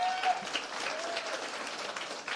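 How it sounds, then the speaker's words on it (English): An audience at a Roblox developers conference claps in a dense, even burst of applause, fairly loud and sustained with a few scattered cheers. "Can we get a round of applause for Widgeon?"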